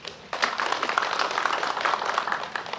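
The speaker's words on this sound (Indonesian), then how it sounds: "Tepuk tangan." Audience at a morning assembly (apel pagi) breaking into steady, dense applause that starts abruptly and continues evenly throughout, moderately loud and fairly close.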